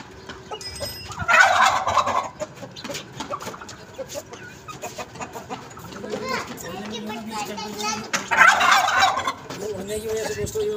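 Turkeys gobbling in a yard in two loud bursts, alongside other fowl calls, with people talking throughout.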